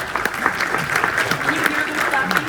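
An audience claps at an Emmy consideration event for the series Moon Knight, a dense, continuous round of applause throughout, fairly loud and close.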